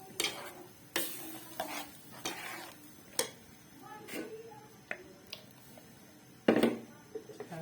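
Masala with ground tomato paste being stirred in a pan, soft sizzling beneath a string of quiet scrapes and clinks of a spoon against metal, irregularly spaced, close but faint, with no voices.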